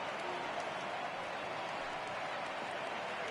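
Huge stadium crowd of about 34,000 fans in MLB The Show 18 baseball game between the Oakland Athletics and Houston Astros, a steady broad roar of cheering that holds evenly throughout with no talk over it.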